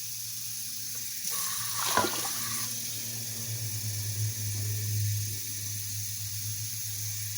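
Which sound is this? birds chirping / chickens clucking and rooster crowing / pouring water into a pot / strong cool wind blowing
pouring water into a pot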